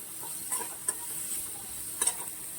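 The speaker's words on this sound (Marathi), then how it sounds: "मस्तपैकी कांदा असं जरासा परतून घ्यायचा आहे." Onion sautéing in a pan for a Masvadi recipe gives a faint, steady sizzle with a few soft stirring scrapes and no talk.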